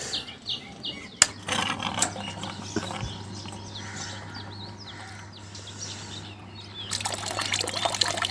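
Low-pressure water trickling from a gas geyser outlet after being switched on, a thin, faint continuous flow with a steady low hum, a sharp click near the start and some bird chirps in the background.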